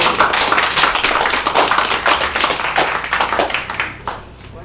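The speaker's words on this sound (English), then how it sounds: "a round of applause for our guests" A workshop audience claps together, a dense round of applause that holds steady and then tapers off toward the end.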